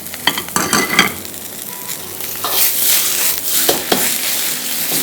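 An egg goes into a hot frying pan with a loud, steady sizzle and crackle, broken by scraping stir strokes and a few sharp clinks of utensil on metal, heard close and with no talking.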